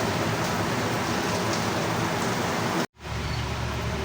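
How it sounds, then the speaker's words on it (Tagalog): Steady, dense rain hiss fills the scene, broken by a brief silent gap before the downpour resumes just as loud. "Yung pong naririnig nyo, ulan po yan."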